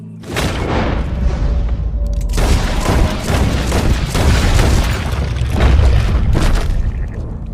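Gunfire rings out in Red Dead Redemption 2, with several loud, booming shots in quick succession and echoing rumbles between them, up close and without speech.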